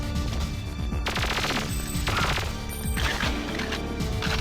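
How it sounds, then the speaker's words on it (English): Rapid bursts of gunfire crackle in quick volleys over a busy, noisy game soundscape, loud and close, with brief pauses between strings of shots. "can I say once again how much I love the sound of this gun?"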